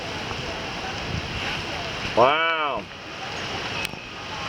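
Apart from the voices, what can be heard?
wind and heavy rain of Tropical Storm Elsa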